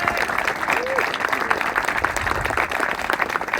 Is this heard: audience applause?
yes